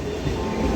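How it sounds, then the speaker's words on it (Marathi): A local train pulling into Virar station, a steady close rumble of rolling carriages with faint wheel clatter running through the whole short moment. "आमची ट्रेन पण आलं आहे बघा"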